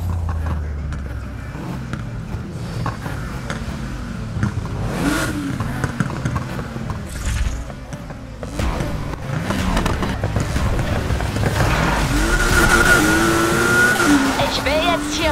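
A car in the video game Need for Speed Heat races at full throttle, its engine revving through repeated rising gear sweeps with tire squeal, while voices speak over it.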